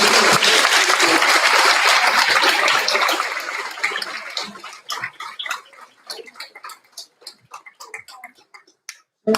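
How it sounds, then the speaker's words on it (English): A graduation ceremony audience applauds the performers, dense loud clapping that thins after a few seconds into scattered individual claps trailing off. "Can we please give a round of applause again for the performers?"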